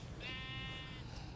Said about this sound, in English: Now Rowan's trying to tame a sheep